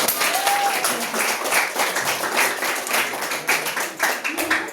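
Students in a school audience applaud after a public speaking presentation, lively uneven clapping with crowd murmur and some voices mixed in beneath it.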